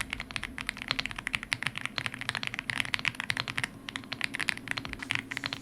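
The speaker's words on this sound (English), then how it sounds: "It's my favorite switch on the F75. 5-pin linear switch, and here's how it sounds." Typing on an F75 keyboard fitted with Reaper 5-pin linear switches and OEM keycaps, a fast, dense run of close clacks and taps, continuous and unaccompanied.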